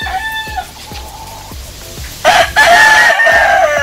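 A Roundhead yellow-legged rooster with a straight comb crows in a backyard, a drawn-out call near the start and a louder, harsher burst later, with clucking and thumps between.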